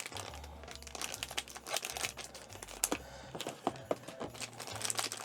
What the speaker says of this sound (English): Just going to get them out of the packaging.